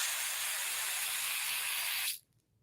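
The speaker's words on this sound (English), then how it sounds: "So I'm going to shake the can and really spray." Aerosol spray can spraying product onto hair during an updo styling, a loud continuous close-up hiss lasting about two seconds before cutting off abruptly into near silence.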